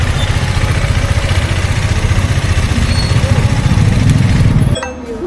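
A TVS Apache RTR 310 motorcycle engine idles with a steady, close low rumble and rapid pulsing, then cuts out abruptly near the end, leaving faint background noise.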